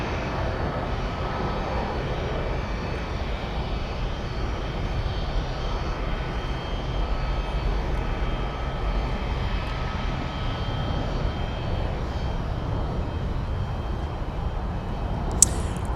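An airplane on flight 617 takes off from runway 17 at MSP, its engines making a steady, distant roar at moderate level with no talk over it, ending in a brief click.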